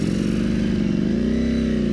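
A superbike's engine revs hard and loud up close, a steady harmonic roar that climbs in pitch toward the end.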